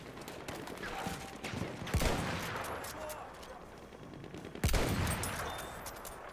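Battlefield 1 gunfire sounds in sharp, loud cracks, two standing out clearly among scattered distant shots and a rumbling battlefield background.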